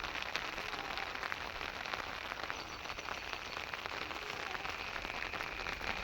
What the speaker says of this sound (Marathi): असा आहे पाऊस